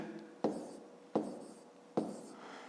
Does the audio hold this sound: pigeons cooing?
no